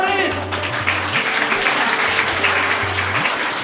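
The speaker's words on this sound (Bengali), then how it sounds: "হাততালি দিয়ে দাও, হাততালি।" An audience at a district yogasana championship claps in a dense, moderate burst, with voices and background sounds running through it.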